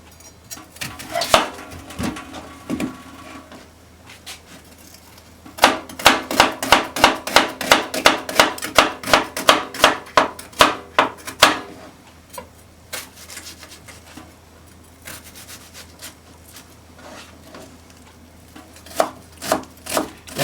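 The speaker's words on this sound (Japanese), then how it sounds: "みじん切りにしていきます。" Vegetables for cabbage rolls are minced with a kitchen knife on a cutting board. Sharp, close knife taps come in scattered bursts and then a fast, steady run of chops. No one talks.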